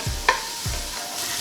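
Chicken, onions and mushrooms sizzle in a pan while being stirred, with soft scraping strokes over a steady frying hiss, close and fairly quiet.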